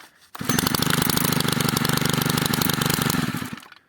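A Stihl KM 90R 4-MIX multi-tool engine fires up abruptly and runs at a loud, steady, buzzing rattle for about three seconds before cutting off.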